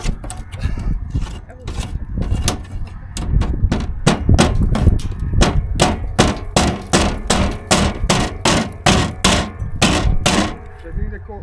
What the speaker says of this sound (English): now I remember that I will need a hammer somewhere around here